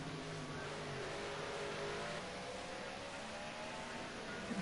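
Race cars at Oulton Park running side by side into Lodge Corner, a steady, faint engine drone heard from a distance with no break.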